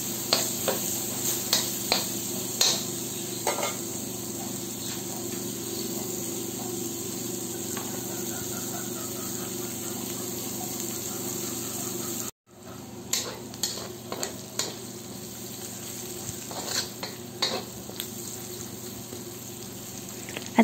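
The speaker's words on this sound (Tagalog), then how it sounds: "lutuin lang natin ang sibuyas at bawang ng 2 minuto or hanggang sa lumambot na ito" Sliced onion and garlic sizzle steadily while they sauté in a pan for pork binagoongan, with occasional sharp clicks of a utensil stirring against the pan under a constant frying hiss. The sound cuts out briefly partway through.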